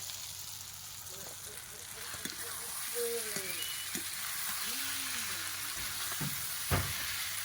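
Steady sizzle of fish pieces dropped onto onion, salt, turmeric and chilli powder frying in a pan, a constant hiss with a few soft knocks and a faint voice underneath.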